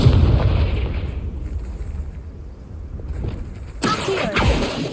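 Confringo fire spell blasts in Hogwarts Legacy on PS5: a heavy explosion opens and rolls away into a low rumble, then a second sharp, bright burst erupts near the end amid crackling debris.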